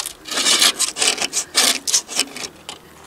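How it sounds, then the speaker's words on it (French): A utility knife scrapes old putty off a pane of glass on a greenhouse glass roof, giving a run of close, fairly loud rasping strokes in an uneven rhythm, with no talking. "Et là, on n'a plus qu'à nettoyer au cutter le mastic."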